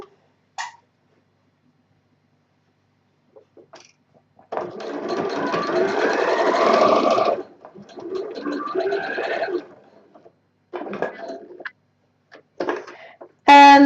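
A sewing machine runs in short bursts while stitching a patch pocket: a quiet pause, then a close whirring run of about three seconds, a shorter second run, and brief starts and stops with clicks between.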